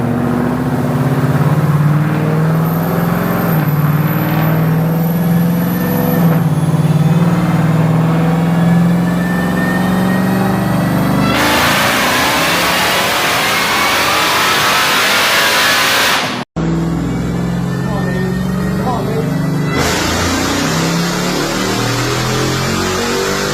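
Stock-engine Dodge Hellcat with a Kong 2650 supercharger roaring through a dyno pull: loud, sustained engine revving climbs steadily in pitch, then cuts out abruptly before a lower-pitched roar returns.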